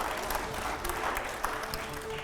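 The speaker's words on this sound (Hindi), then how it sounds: "जोरदार तालियां हो जाए।" Studio audience applause during a Hindi political talk show with editors: a steady wash of clapping at moderate level, even and continuous through the short stretch, with no voices over it.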